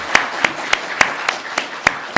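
Slow, evenly spaced claps ring out one by one in a church, about eight distinct sharp hits over a soft background murmur.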